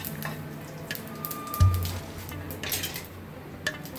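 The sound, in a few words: oil with cumin and asafoetida heating in pan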